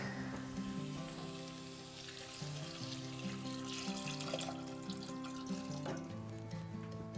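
Stock poured into a pot of carrots already cooked in butter and ginger, a steady splashing liquid pour that runs continuously at moderate loudness over a humming tonal background.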